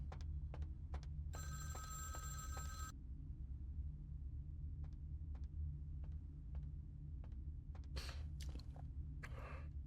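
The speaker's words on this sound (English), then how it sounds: "Ah, I hear the phone." In the video game Vampire: The Masquerade – Bloodlines, a telephone rings in a museum: a bright electronic ring lasts a little over a second over a steady low room hum, followed by scattered faint clicks and soft rustling.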